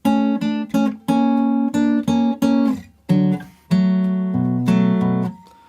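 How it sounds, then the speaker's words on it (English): Loud, close guitar playing the main riff of a song in standard tuning: melodic ringing plucked notes and chords, with brief pauses between phrases. "Now the main guitar part sounds like this."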